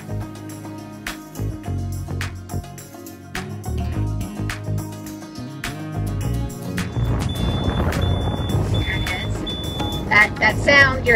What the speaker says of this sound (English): That sound you're hearing is the AIS.